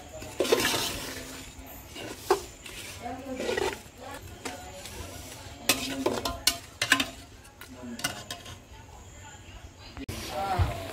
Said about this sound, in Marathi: आता गोड सगळा मिक्स करून घेऊया.